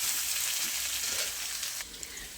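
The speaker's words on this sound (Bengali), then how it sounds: "আর একটু ভালো করে ভাজতে হবে আলু আর চিচিঙ্গাটা" Potato and snake gourd fry in a pan, giving a steady, dense sizzle at moderate loudness that barely changes, with no voices.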